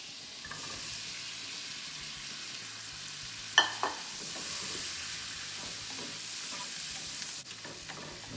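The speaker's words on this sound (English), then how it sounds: "And we're going to cook these onions" Sliced white onion frying in butter in a pan gives a steady broadband sizzle with a couple of sharp utensil clicks midway, close and moderately loud, with no talking.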